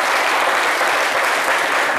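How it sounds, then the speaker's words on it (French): A studio audience gives steady, dense applause on a French midday talk show, with the clapping holding loud and even for the whole stretch. "Ça mérite de chers applaudissements."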